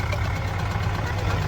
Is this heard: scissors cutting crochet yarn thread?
no